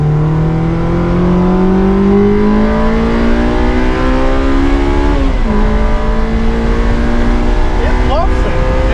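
A 2001 Honda S2000 on a race track, heard from inside: loud, steady engine drone rising in pitch through the gear, a quick shift dip midway, then climbing again, with tyre noise underneath and voices talking.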